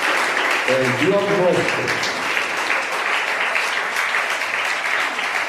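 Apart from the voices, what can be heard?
congregation applauding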